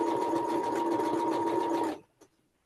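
A sewing machine stitching quilt fabric runs steadily at high speed for about two seconds with a strong even whir, then stops abruptly, followed by a couple of faint clicks.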